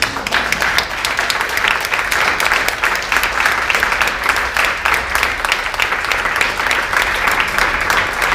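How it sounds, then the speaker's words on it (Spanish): A church congregation gives loud, sustained applause for Jesus, a dense and continuous roar of many hands clapping together with no break. "Denle un aplauso muy fuerte a Jesús."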